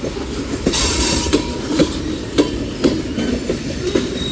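Union Pacific mixed freight cars, including flat cars and tankers, roll by at Central Avenue with a steady heavy roar and regular clickety-clack beats from the wheels, loud and near.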